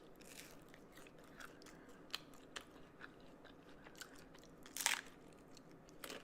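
Crunchy bites and chewing of a pickle at a vegan mukbang meal, close and fairly quiet, with a louder crisp crunch near the end.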